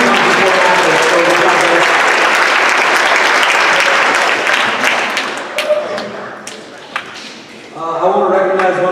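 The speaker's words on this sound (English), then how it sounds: "give these guys one more round of applause" High school awards program audience at Lyman High School applauds loudly and densely, then the clapping thins into scattered claps and fades before a voice begins speaking at the end.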